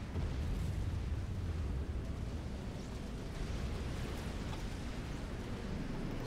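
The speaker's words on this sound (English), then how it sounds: "Seraphim artillery. Could do with having its firing randomness reduced," Seraphim artillery firing in the real-time strategy game Supreme Commander, a steady low rumbling roar of distant booms and explosions blending into a continuous, fairly quiet wash of sound.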